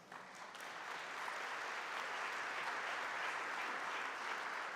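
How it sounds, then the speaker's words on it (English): An audience at a community foundation afternoon event applauds itself, steady full clapping that swells in the first second and holds evenly throughout. "Please give yourselves a round of applause."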